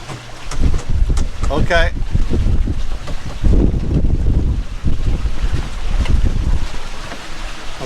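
A sailboat running in strong wind, with steady loud wind rush and buffeting against the microphone, water wash beneath, and people talking over it.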